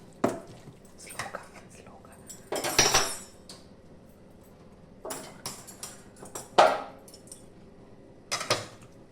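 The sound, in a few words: mashing gongura and chillies with a masher in a pot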